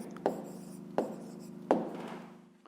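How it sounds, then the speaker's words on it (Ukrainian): A pen writes an answer on paper for a fifth-grade maths exercise, producing three short, soft scratching strokes spaced under a second apart. The sound is faint and close, with no speech. "Записуємо відповідь."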